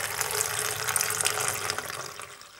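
Lemon peel water, made for homemade dish wash, poured steadily into a bottle, giving a close, continuous splashing gurgle that eases off slightly toward the end, with no voices.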